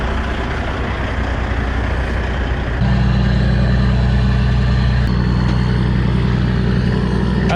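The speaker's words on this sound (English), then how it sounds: "So the truck's just pulling in." A milk delivery truck pulls in at a farm, its loud close diesel engine rumbling steadily and settling into a deeper, constant idle partway through, with no talk.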